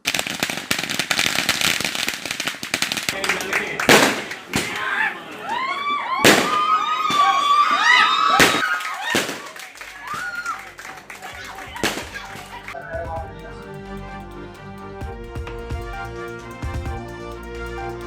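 Firecrackers bursting at a family celebration of an Indian cricket team victory: several sharp, loud bangs and crackles at irregular intervals, followed by festive music.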